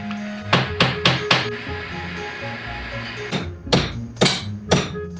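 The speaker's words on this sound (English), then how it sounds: "So I can't find my hammer, so I'm gonna use this doorstop." A doorstop is used in place of a hammer, striking a wall indoors in sharp, loud knocks: a quick burst of four blows, a pause, then four more uneven thwacks, with no voices.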